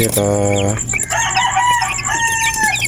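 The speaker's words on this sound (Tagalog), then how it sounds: "Ating mga sisiw. 1 month old." One-month-old chicks peep in high, thin repeated calls close by after a loud rooster crow opens the sequence.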